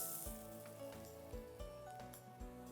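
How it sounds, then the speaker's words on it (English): Chopped onion and cumin seeds sauté in a pan with a steady, soft sizzle, a few louder bursts and scrapes rising briefly over the constant low frying hiss. "Saute the onions till they are nice and soft."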